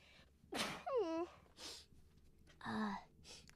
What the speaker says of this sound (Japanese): あ、くしゃみ出る。